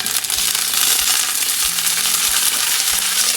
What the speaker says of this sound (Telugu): సో మన పచ్చిమిరపకాయలు ఫ్రై అవుతున్నాయి